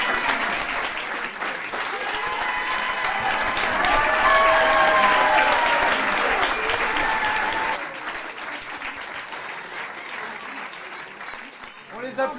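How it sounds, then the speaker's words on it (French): Loud, sustained applause from a crowd at a poetry slam contest, with cheering voices over it, then thinning to scattered clapping before a few final claps. "On les applaudit très fort."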